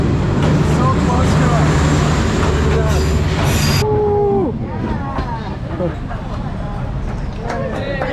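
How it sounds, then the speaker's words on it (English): A train rolls close past on tracks running through a Hanoi street, a loud rumbling pass with squealing wheels and clattering cars, then fading to street noise and chatter as people talk nearby. "The train passes and people are back on the tracks like it's normal."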